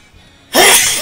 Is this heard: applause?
no